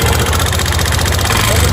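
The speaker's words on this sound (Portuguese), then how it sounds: "Liga a moto de novo aí pra gente." A Yamaha Fazer motorcycle with a loud top-end noise, recently fitted with a new connecting rod and cylinder kit, idles close by with a loud, steady, throbbing mechanical rumble that never lets up.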